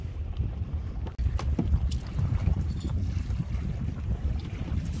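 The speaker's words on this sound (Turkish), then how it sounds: "Çok dalga var şu an." Waves slapping against a 4.50 m fishing boat during a day of horse mackerel fishing off Maltepe toward the Princes' Islands, a steady close wash with wind buffeting the microphone.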